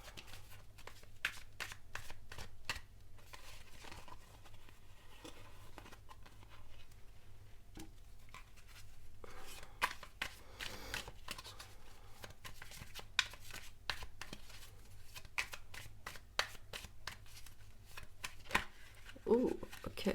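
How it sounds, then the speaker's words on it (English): Tarot cards being shuffled by hand, a steady run of soft riffling and flicking strokes that rises and falls in bursts over a low background hum, close to the listener with no talking. "Let me just shuffle them."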